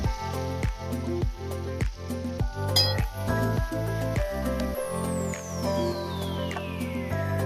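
Spice paste with black cumin frying in a pan, with repeated metallic clinks of a utensil against the pan over a steady sizzle, close and moderately loud, with no talking.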